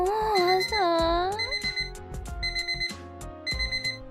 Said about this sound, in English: why the alarm have to ruin it?